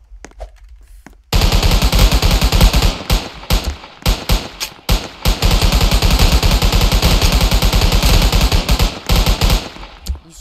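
Rapid automatic gunfire from a multiplayer gun-game shooter, sustained loud bursts after a brief quiet start, with short gaps between volleys and a single isolated shot partway through.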